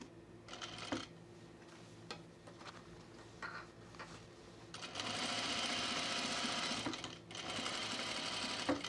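A sewing machine stay stitches a blazer, a Cashmerette Auburn, in long continuous runs of loud rapid needle chatter broken by short pauses and handling clicks, then a sustained steady burst near the end.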